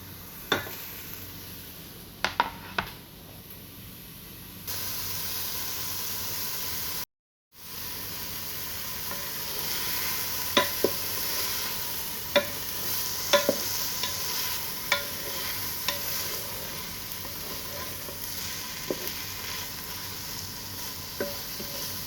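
Chorizo sausage and chopped onion cooking slowly together in a Ninja Foodi, a steady sizzle broken by scattered scraping and stirring clicks throughout, with a brief dropout partway through.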